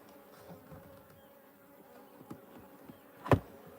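Australian honeybees at an open hive during a midsummer check, a faint steady hum with a few individual bees buzzing close past the microphone, one loud near fly-by near the end.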